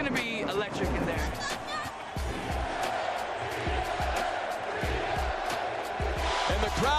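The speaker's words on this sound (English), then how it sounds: "the crowd is louder than it's ever been in this building" A packed basketball arena during the Lakers' 2009–2010 NBA Championship run, with loud, continuous crowd roar and cheering that swells throughout, dense babble filling the space and scattered sharp thumps under it.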